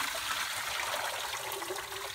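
Creamy clay slurry from a cement mixer pours through a heavy strainer, a soft steady watery trickle and gush, close and fairly quiet.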